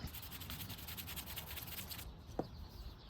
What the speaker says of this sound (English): we'll hit it with some softer sandpaper to just dull it down